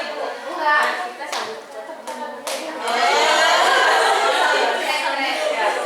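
A group claps hands together in a classroom activity, with bursts of clapping swelling into steady, fuller applause near the end, under light chatter.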